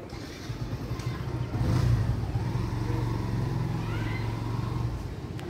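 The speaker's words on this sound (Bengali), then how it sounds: "এই যে একজন বাইক নিয়ে বেরিয়ে যাচ্ছে।" A motorbike pulling away from a house on a cloudy morning, its engine swelling briefly then holding a steady drone before easing off as it moves away.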